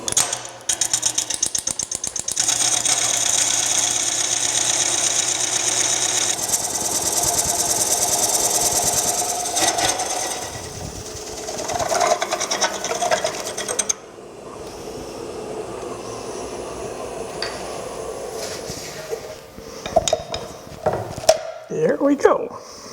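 Wood lathe spinning at about 400 RPM while a coring knife cuts several bowls from a burl blank, a steady broadband mechanical rush with scraping and chattering that fades midway, then sporadic knocks and clatter near the end.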